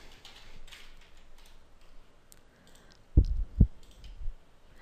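A computer mouse gives two sharp, close clicks in quick succession against faint background hiss.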